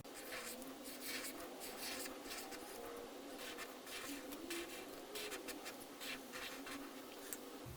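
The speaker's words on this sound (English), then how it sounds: "I'm going to write just a couple of words on the next piece of paper." A pen scratches out a couple of words on paper for a calligraphy piece, with faint, close strokes in an irregular rhythm of short bursts and pauses and no talking.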